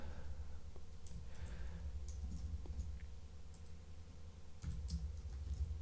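Someone types on a computer keyboard while setting up Nextcloud on Unraid, with soft, irregular key clicks running steadily beneath a low background hum.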